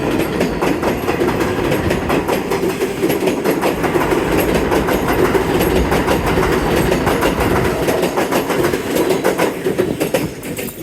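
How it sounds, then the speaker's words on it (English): A New York City 7 train rumbles loudly through the 40th St–Lowery St local station, with rhythmic clickety-clack of wheels over the tracks and a steady roar throughout. "This station is served by the 7 train"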